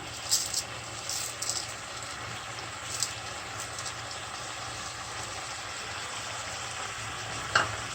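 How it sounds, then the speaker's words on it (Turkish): Zucchini sautéing in a pan with rice added, a steady soft sizzle under a low hum, with a few brief clinks of a utensil near the start and one sharp tap near the end. "Kabaklarım 1-2 dakika kavruldu."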